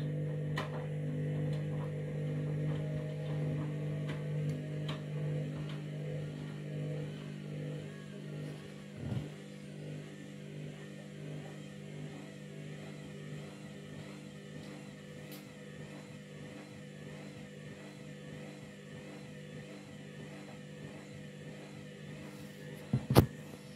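A Candy washing machine loaded with bedding drones with a steady low motor hum and faint rattles for over twenty seconds as it struggles and fails to reach its spin cycle, ending with a couple of brief clicks.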